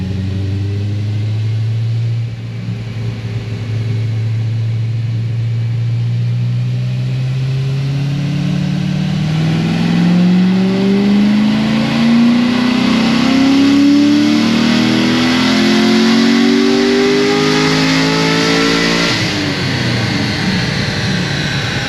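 A Chevrolet LS7 V8 on a dyno pull, loud and close, starting at a low drone and climbing steadily in pitch as it revs hard, then dropping off sharply at the top before settling back.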